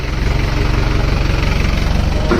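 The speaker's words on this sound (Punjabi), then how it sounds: "ਅਖੀਰ ਤੇ ਲੱਗਾ ਟਰੈਕਟਰ ਆਪਣਾ ਘਰ ਵੜਨ" A steady, rumbling tractor engine idles close by, its low throb continuous and unchanging throughout.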